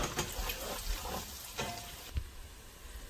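Bacon sizzles and crackles steadily in a pan while being stirred, with a few louder scraping knocks, close and continuous throughout.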